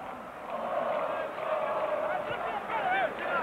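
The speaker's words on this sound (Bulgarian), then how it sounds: "получава аплодисменти от страна на публиката" A football stadium crowd roars and applauds in a broad, steady wash of noise, with a commentator's voice carrying over it.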